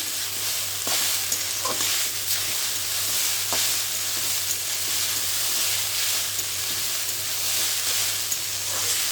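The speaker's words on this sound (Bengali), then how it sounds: "পাস্তাটা দেখো ভাজা ভাজা করছি।" Pasta sizzling and frying in a pan with spice mix, a steady broadband crackle and hiss held close and loud throughout, with occasional stirring scrapes and clicks.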